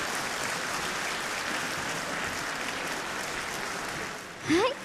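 An audience applauds steadily at the finale of a national senior ensemble competition in Utsunomiya, Japan, a dense wash of clapping, before a brief voice cuts in at the very end.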